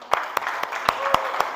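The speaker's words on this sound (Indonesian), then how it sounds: "Silakan tepuk tangan." Classroom applause, a handful of distinct claps in an irregular rhythm over a low background hum, close and moderately loud, with faint voice-like murmur between them.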